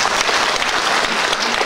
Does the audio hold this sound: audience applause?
yes